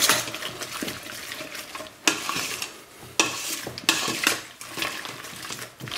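Shrimp yassa being stirred in a pan with lime juice just added, giving a continuous sizzle with scraping utensil strokes against the pan in several bursts, close and fairly loud, with no talking.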